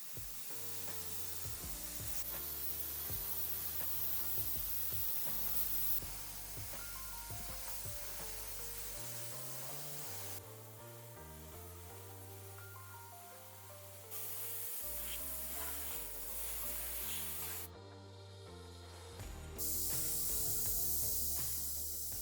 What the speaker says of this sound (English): I'm paint spraying them white.